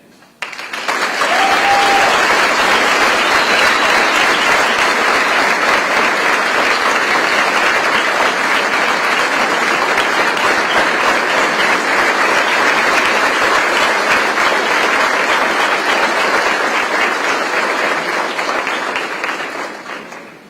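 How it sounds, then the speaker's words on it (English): Loud, sustained applause fills a room at a school-district breakfast event honoring the superintendent, a dense, even roar of many hands that swells quickly, holds for about twenty seconds, then tapers off. "Give our superintendent another round of applause."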